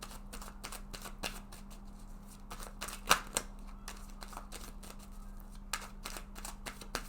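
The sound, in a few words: shuffling and drawing tarot cards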